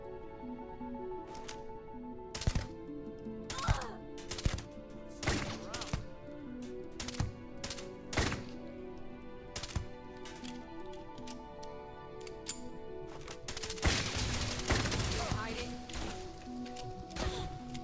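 Rapid gunfire from the Starfield video game: sharp single shots come at irregular intervals, then a dense burst of fire near the end, all loud and close.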